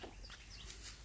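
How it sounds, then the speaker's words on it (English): Small birds chirp faintly outdoors, a few thin, high calls scattered over a quiet background. "Got a lot of little tiny birds around."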